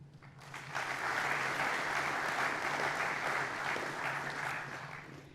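A hall audience at a formal firefighters' anniversary ceremony bursts into sustained applause, a dense, even wash of clapping that swells quickly and holds for several seconds before thinning slightly.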